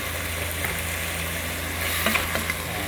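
Shredded cabbage stir-fries in a hot pan for pansit canton, giving a loud continuous sizzle with scraping stirring strokes and a few sharp crackles, close and with no talk.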